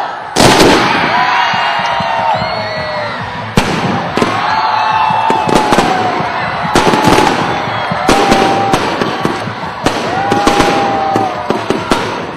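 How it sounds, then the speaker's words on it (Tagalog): Grand fireworks display over Bislig bursting in rapid, overlapping bangs and crackles, loud and sustained, with a crowd faintly audible beneath the blasts and occasional whistling rises between explosions. "Dihayag usab ang kawanangan sa gihimong grand fireworks display"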